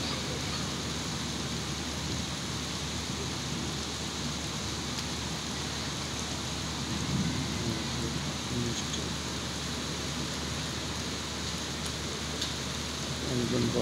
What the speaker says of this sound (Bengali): বৃষ্টির সাথে ঝড়ও হচ্ছে